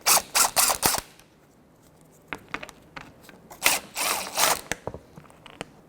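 Ratchet fitted with a 10mm socket backs out self-tapping screws on a 2005-2010 Chevy Cobalt lower grille, giving close, loud bursts of rapid clicking in two separate runs with brief ticks between them.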